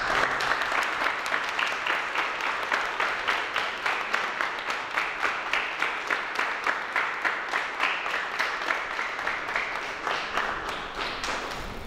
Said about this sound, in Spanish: vamos a dar un aplauso por el Cristo.